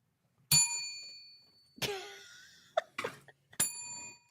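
A bell is struck for a correct answer during a live trivia quiz show: a bright, ringing ding at the start, then several more dings spaced out, each decaying quickly, with faint sounds between the strikes.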